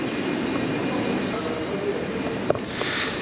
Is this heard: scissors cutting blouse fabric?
no